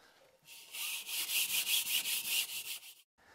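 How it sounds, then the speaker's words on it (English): A scuff pad rubbed across an RV wall surface, a run of about a dozen rhythmic back-and-forth scrubbing strokes, close and loud, starting and stopping abruptly. "I use a scuff pad like this to scuff the surface so the tile would adhere properly."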